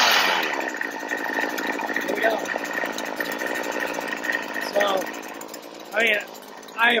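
A cheap Amazon string trimmer engine, fitted with a new $20 Chinese carburetor, runs loud and close at a steady buzzing idle with a few sharp revs near the end.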